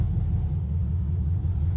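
A 1972 Chevrolet C10 pickup engine running on its first start after a build, a steady low idling rumble that holds even and continuous, fairly quiet and without speech.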